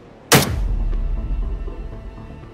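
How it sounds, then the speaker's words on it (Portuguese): A single gunshot rings out across the Siberian wilderness where wolves roam: one sharp crack followed by a rolling echo that fades over about two seconds, with no speech. "A equipe de biólogos escuta tiros ecoarem ao longe."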